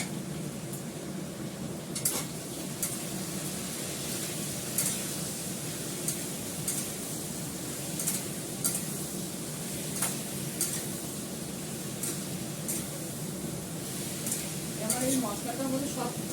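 Spices and sugar fry in a pan while being stirred, a steady low sizzle with periodic metallic scrapes and clinks of the spoon against the pan, close by.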